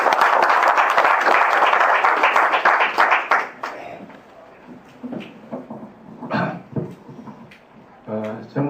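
Applause from a seated audience in a large hall at a maritime arbitration association's founding assembly, steady and loud for a few seconds, then tapering into scattered claps and rustling.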